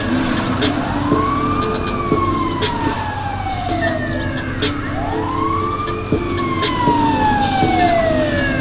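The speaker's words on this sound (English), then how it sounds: "Oh, it's an ambulance." Wailing ambulance siren in a video game, sweeping up and down in two long cycles, loud and steady over a droning engine and repeated ticking.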